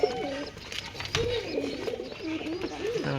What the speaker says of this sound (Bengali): এটা আমার কবুতরের লফট